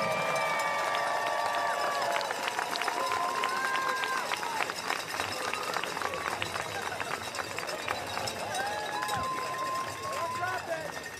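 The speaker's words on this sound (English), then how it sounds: "Please give them a round of applause." A crowd applauds and cheers the 2023 championship-winning ultimate frisbee team, a steady dense wash of clapping with cheers rising above it throughout, and speech is mixed in.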